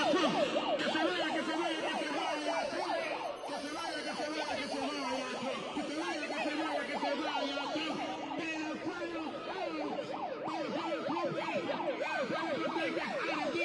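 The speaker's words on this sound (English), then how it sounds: "She's got to switch to the siren." A wailing emergency siren sweeps up and down in a fast, regular oscillating pattern, moderately distant and fairly faint under a street crowd's murmur and traffic, continuing without a break.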